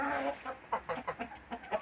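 Several Lohmann Brown hens cluck softly in a steady run of short, close calls, one after another.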